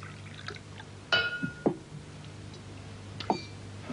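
Wine pours into a glass at a dining table, with a few short splashes and glassy clinks over a low background hum and no talk.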